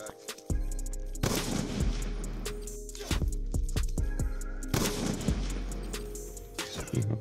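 Sniper rifle fire in Black Ops 2 plays as loud, sharp gunshots with booming tails, along with a cluster of quicker bangs in the middle of game audio.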